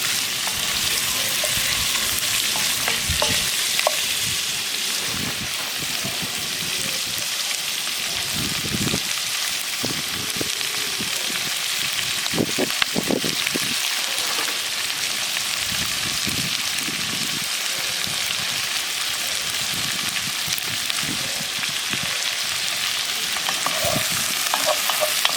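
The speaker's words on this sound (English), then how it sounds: "just want to sear the outside of the meat." Beef searing in a pan over an open fire for a beef and red wine stew, a steady loud hiss of frying close up, broken by occasional scrapes and pops as pieces are added, with no talking.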